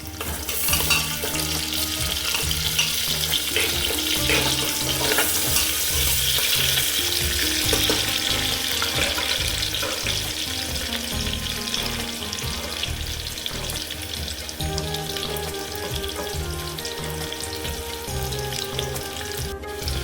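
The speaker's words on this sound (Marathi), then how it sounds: "तेल चांगलं तापल्यानंतर हे तमालपत्रे आहेत ते ॲड करून घ्यायचे आहेत. हा कांदा ॲड करून घ्यायचा आहे." Bay leaves and onion added to hot oil in a pot for Kolhapuri mutton biryani, a continuous close bright sizzle with crackling and stirring scrapes throughout.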